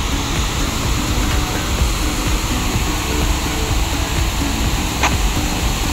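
Heavy water pours down under strong pressure at a filtering unit of a power plant in Sirajganj, a steady dense roar with no breaks, loud and close, with wind noise over it.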